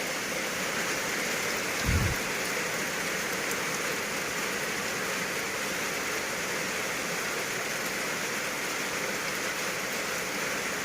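Steady rain hisses continuously, a dense even wash of noise with one brief low thump early on.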